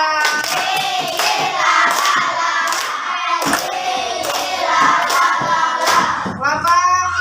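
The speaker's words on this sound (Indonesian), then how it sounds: "Tepuk tangan buat kelompok 3." Students in a classroom clap in unison for a group, rhythmic rounds of patterned hand claps mixed with chanting voices, loud and close.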